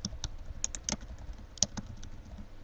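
Caption text being typed on a computer keyboard, with quick irregular clicking keystrokes, close and moderately quiet, one sharper key press midway.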